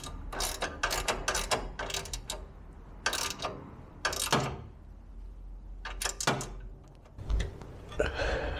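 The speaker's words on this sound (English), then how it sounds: "I need a spanner to do that up" Spanner working on the offside horn of a truck: bursts of quick ratcheting clicks in short runs separated by pauses, fairly close and moderately loud.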